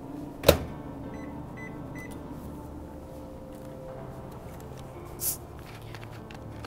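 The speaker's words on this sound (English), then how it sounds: "We're gonna melt it in the microwave super quick." Microwave oven melting butter in a kitchen, a low steady hum running throughout with a sharp click or beep near the start and another short tone near the end, with no talking.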